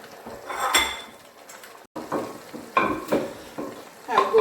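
A utensil scrapes and clinks in a pot as fish is gently stirred into eru soup, giving irregular knocks and swishes at close range.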